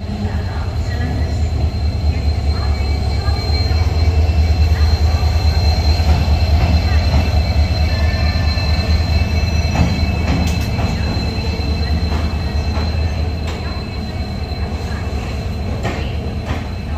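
An Ajmer Amritsar Express rolls along steadily, its deep low rumble and wheel noise continuous and close, with faint squeals and clatter from the rails running throughout.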